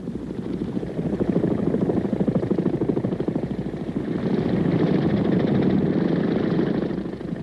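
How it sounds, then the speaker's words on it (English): Steady, heavy rotor thump and engine drone of a large CH-46 helicopter, a continuous rhythmic beating that swells slightly midway, fairly close. "from the big CH-46 helicopters that bring in the ammunition, food, and water"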